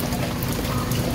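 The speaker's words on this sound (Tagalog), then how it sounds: "Hopefully humina na ang ulan, tumila na siya." Steady monsoon rain falls on a vegetable garden of lettuce and asparagus seedlings, a dense, even patter that stays constant throughout with no voices.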